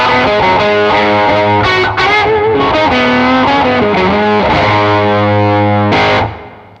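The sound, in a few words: Karma Suture distortion effect on a bicycle delay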